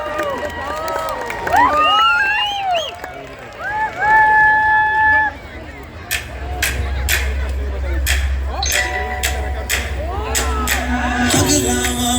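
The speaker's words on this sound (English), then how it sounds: "make sure we have the loudest cheer for these kids here" An audience cheers and claps for a children's Bolly Tolly dance performance, a sustained crowd roar with scattered sharp claps and shouts rising after a stretch of music.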